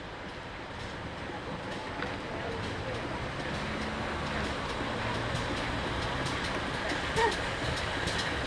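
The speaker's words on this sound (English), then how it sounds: "Hauled by the two visiting Pannier Tank locomotives, number 6430 from Llangollen, piloting number 6412 from the West Somerset Railway, the 4:45 p.m. from Buckfastleigh draws into Staverton station." Two GWR Pannier Tank steam locomotives, numbers 6430 and 6412, haul a train into Staverton station on the South Devon Railway, heard as a steady, fairly distant rumble of rolling stock with a faint brief squeal near the end.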